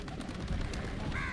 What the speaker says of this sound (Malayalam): നല്ല ഭംഗിയുള്ള പ്രാക്കളനെ നമ്മളടുത്തേക്ക് ചെല്ലുമ്പോൾ അവർ പറന്നു പോവും